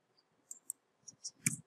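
Soft, sparse computer mouse clicks during an online teaching setup, a handful of quiet clicks spread across the moment with a slightly firmer click near the end, no talk over them.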